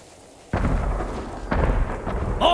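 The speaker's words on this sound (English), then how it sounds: "More fireworks! On all sides!" Fireworks in Ghost of Tsushima on Iki Island burst in a sudden loud boom, followed by rumbling crackle and a second deep blast, with sharp popping near the end.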